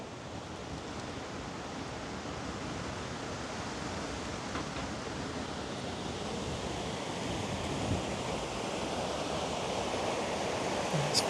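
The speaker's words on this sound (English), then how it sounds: "And it's very windy." Strong coastal wind at Arnside buffets the microphone in a constant loud roar of broadband noise, steady throughout with slight swells and no voices.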